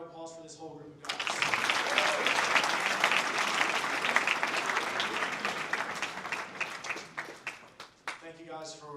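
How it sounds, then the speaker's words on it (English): Sustained, loud applause from a large audience for election candidates at a Boys Nation awards ceremony, rising sharply after a brief spoken line and running for about seven seconds before fading back to talk. "one more round of applause for this whole group of guys"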